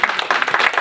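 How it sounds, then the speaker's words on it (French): An audience claps loudly for itself in a dense, continuous burst of applause, close and full, with a voice briefly audible underneath. "J'aimerais d'abord que vous vous applaudissiez. Très fort."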